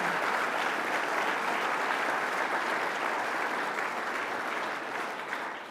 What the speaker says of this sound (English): let's give a big round of applause to all of these EcoCAR sponsors